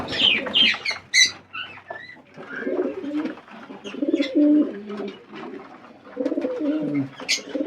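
Pigeons coo in low, throaty rolls, several birds close by, with a few sharper chirps and flutters between the calls.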